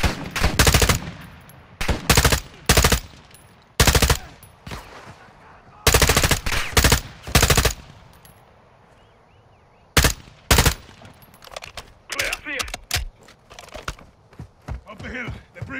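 Machine gun fire in the Modern Warfare 2 video game rattles out in loud, sharp bursts of rapid shots separated by short pauses, with voices in between.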